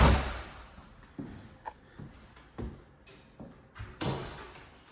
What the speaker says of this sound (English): this door shuts nice and soft